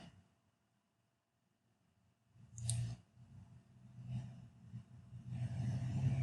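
Faint, close mouse clicks sound in a quiet room, with a couple of soft taps and light handling noise around them.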